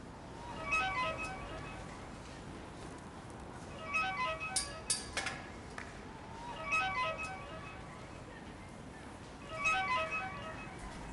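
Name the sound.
mobile phone ringing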